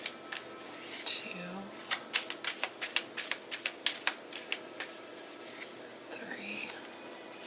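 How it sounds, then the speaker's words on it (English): Soft riffle-shuffling of a tarot deck, a run of quick crisp card flutters in bursts, close and quiet, with faint whispery speech at the start and end. "Alright, we'll do 3 shuffles."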